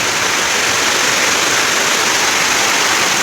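Heavy daytime downpour with hail on a house courtyard, a dense, unbroken hiss of rain loud and close throughout, with no voices.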